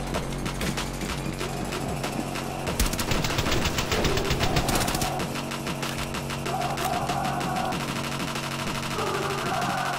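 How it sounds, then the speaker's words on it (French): Rapid gunfire in Rainbow Six Siege, with fast automatic bursts and mechanical clatter running close and loud throughout, and some game sounds layered in. "Et on tire dessus, on sait pas d'où."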